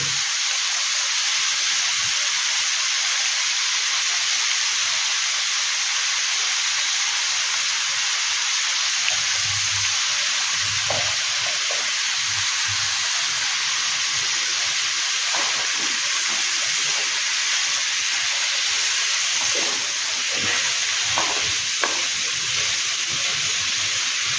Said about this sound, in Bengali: তো এটা ভাজা ভাজা হচ্ছে, তো যার জন্য এর মধ্যে আমি একটু তিল দিয়েছি